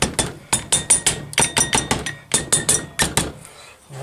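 A hammer taps pistons down into the cylinders of an engine, giving quick sharp strikes in short rhythmic bursts of several blows each, close and loud, ending with a brief pause and faint handling noise.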